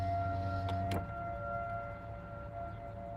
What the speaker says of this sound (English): We hear a siren right now, like a steady pitch siren.